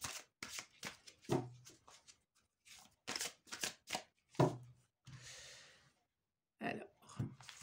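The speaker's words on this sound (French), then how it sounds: "Voyez quelle carte vous désirez choisir et je vais de suite en placer une à côté de chaque objet" Tarot cards shuffled and dealt out, a series of close, crisp riffles and slaps in short bursts with pauses between, quiet and alone.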